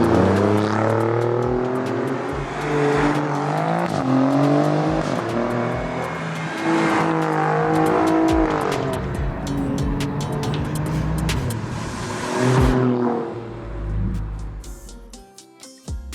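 An Alfa Romeo Giulia Quadrifoglio engine revs hard and loud, rising and falling through repeated bursts of acceleration before a car roars past, ending in crackling pops.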